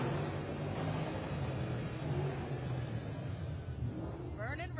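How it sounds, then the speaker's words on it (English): Old-school, middle-aged and new Ford Mustangs, including a Roush and a Shelby, rev their engines while cruising through a Veterans Day parade in Orlando, a loud continuous engine roar under a crowd. "They are revving."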